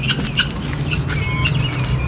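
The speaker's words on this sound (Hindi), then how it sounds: "अभी अभी अंडा दे दिया इस वाली मुर्गी ने" Hens cluck repeatedly in a noisy farmyard, one just after laying an egg, with steady background hum and scattered bird chirps throughout.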